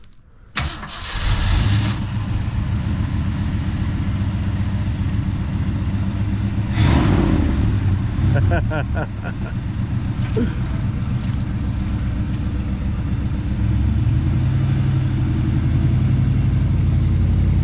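A 1966 Ford Fairlane with a 390 FE V8 and four-speed starts and drives after years off the road, the engine rumbling steadily and loud up close with a few rev surges and clatter.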